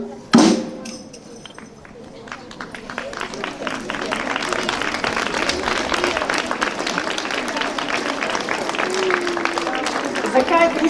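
Applause from a school audience at a Brežice primary school event, dense sustained clapping building steadily for about ten seconds after a brief opening burst, with chatter mixed in.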